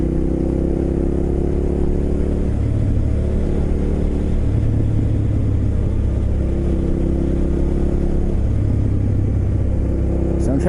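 A rider's first motorcycle pulling away in second gear, the engine droning close and loud with rising and falling harmonic sweeps as it accelerates and settles, continuous throughout.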